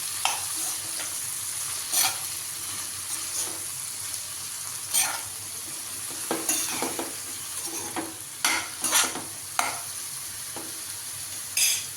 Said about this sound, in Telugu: పసుపు కొంచెం, అన్నీ వేసుకొని కలుపుకోవాలి.